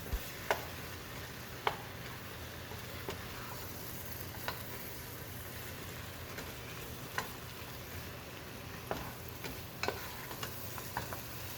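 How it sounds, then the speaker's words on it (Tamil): Mushrooms sauté with masala in a pan, a faint steady sizzle with scattered light clicks of a utensil stirring against the pan, no speech. "இப்போ நம்ம மஷ்ரூமை மசாலாக்களோடு சேர்த்து நல்லா வதக்கியாச்சு."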